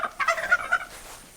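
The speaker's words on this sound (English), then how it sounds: "So the turkeys have found their way over into this pen" Turkeys in a farm pen let out a quick, bubbling gobble, a rapid run of warbling calls close by that fades out over about a second.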